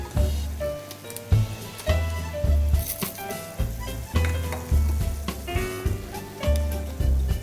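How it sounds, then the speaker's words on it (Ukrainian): Minced meat fries in olive oil in a deep pan with a steady sizzle, broken by intermittent stirring clunks and scrapes, fairly close. "Розігріваємо у глибокій сковорідці оливкову олію та смажимо у ній фарш протягом 5-7 хвилин."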